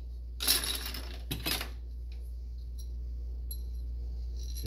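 Loose metal bolts from a wheelbarrow clink and clatter as they are handled, two short bright bursts of jangling close by, then only a faint low hum.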